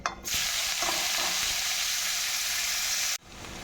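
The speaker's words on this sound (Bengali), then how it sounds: "ফোড়নটা যখন ভাজা হয়ে যাবে তখন এর মধ্যে দিয়ে দেবো কুচনো পেঁয়াজ" Chopped onions hit hot oil over nigella-seed tempering for a fish and taro-stem curry, giving a loud, even sizzle that holds steady and then drops away abruptly near the end.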